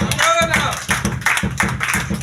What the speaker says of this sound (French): Est-ce qu'on peut s'acclamer ce matin?